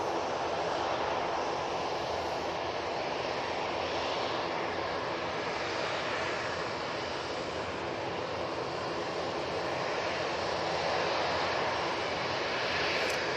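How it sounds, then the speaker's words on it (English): Ryanair airliner landing at Manchester Airport, a dense, steady jet roar at constant strength for the whole stretch, no voices over it. "Ryanair coming down in front of us"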